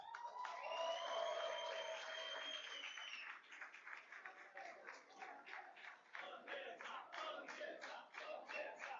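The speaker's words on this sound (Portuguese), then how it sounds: "Eu queria também pedir uma salva de palmas para a nossa pré-candidata" Audience applause for a pre-candidate federal deputy at a political event, broad clapping and crowd noise holding steady for several seconds, with cheering or shouts mixed in early on.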